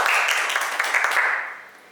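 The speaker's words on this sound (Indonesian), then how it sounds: "Bisa diberi tepuk tangan." Students in a classroom clapping for a small-group presentation, a brief burst of mixed hand claps that starts at once and fades out within two seconds, no talk.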